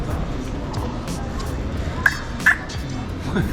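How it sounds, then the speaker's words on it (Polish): Seagulls call at a seaside spot, two short sharp cries cutting in about halfway through over a background of crowd babble and outdoor noise. "te mewy są wszędzie, tak wam powiem"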